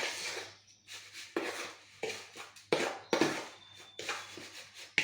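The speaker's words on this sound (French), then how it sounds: "bien mélanger déjà la pâte sèche" Dry homemade goldfinch and canary food being stirred in a bowl, a series of close, rhythmic scraping and rustling strokes about once or twice per second, with no talk.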